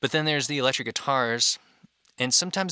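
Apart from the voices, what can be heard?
None of the usual background noises is heard.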